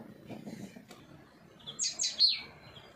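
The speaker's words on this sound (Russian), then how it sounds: "Синечка нас видит и нервничает." A small tit chirps in nervous bursts, several sharp, high calls bunched near the end of the clip, fairly close and clear over a faint, low background murmur.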